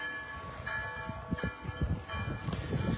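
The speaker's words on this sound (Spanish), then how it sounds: "ahí está sonando las campanas de la Iglesia Católica" Catholic church bells ringing with sustained layered metallic tones that hang over the whole stretch, joined by low knocking and rumbling street noise nearby.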